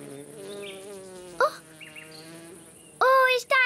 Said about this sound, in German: Eine Biene!